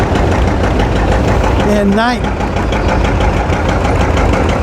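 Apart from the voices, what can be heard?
John Deere tractor engine idling, 1959-60 model, 75 horsepower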